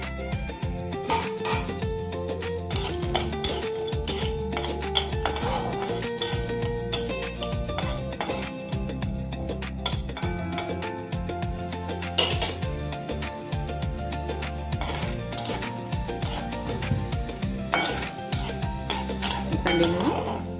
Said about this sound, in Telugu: గుప్పెడు పల్లీలు వేసి వేయించుకోవాలి.